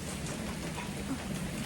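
Steady rain falls at night during a sudden night storm with wind, a soft continuous patter of drops on surfaces at low, even volume, with no voices.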